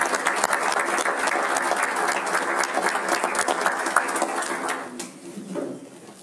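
Applause fills a municipal council meeting in Sarreguemines, a dense run of clapping that holds steady for several seconds, then thins and fades out toward the end.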